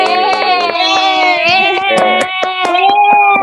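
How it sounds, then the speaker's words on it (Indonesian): Rhythmic hand clapping from a classroom group, sharp regular claps running under loud sustained voices throughout. "Tepuk tangan dulu untuk kelompok ladies."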